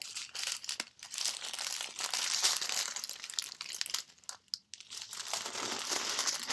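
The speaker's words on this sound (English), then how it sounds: "it's resealable plastic bag here. And then you reach in, you grab your diamond packages." A resealable plastic bag crinkles and crackles continuously as diamond painting packages are pulled out of it, close and fairly loud with brief pauses.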